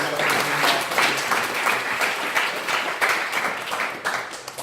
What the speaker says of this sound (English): How about we give a round of applause for our organizers?